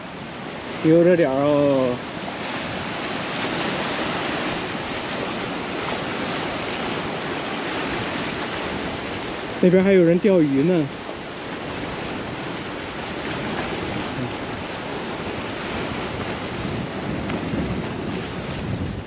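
Steady wind and surf roar at a rugged, undeveloped stretch of seashore in Lebanon, a broadband wash filling the whole clip, with two brief bursts of talk near the start and middle.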